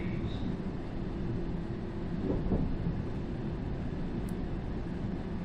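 A London Underground train rumbles steadily in a simulator at Tower Hill, a continuous low mechanical drone with a slight swell near the middle and a brief high beep later, with no talking.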